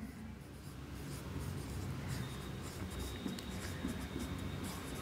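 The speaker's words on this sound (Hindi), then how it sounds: "तो यहां पर लिख लेंगे" Faint scratching of writing on a board during a classroom lesson, a continuous soft rasp under a low background hiss, with no speech in the moment.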